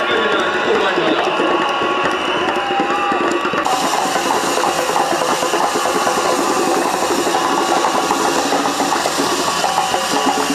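A stadium crowd claps and cheers for sprinter Omanyala at a Kasarani 100m meet's awards ceremony, a continuous wash of applause and noise with a public-address voice speaking over it.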